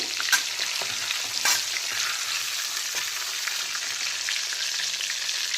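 Turmeric-coated chicken pieces fry in hot oil for a spicy chicken potato curry, giving a steady close sizzle with crackling pops and a couple of louder spatter bursts near the start. No one speaks.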